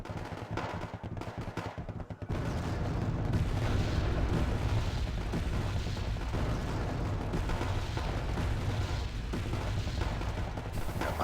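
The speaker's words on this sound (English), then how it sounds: "T-72 over here taking shots." T-72 tank cannon fire in Wargame AirLand Battle, heavy booming shots and explosions that open after a quieter moment, then sustained loud low rumbling combat noise with no talk.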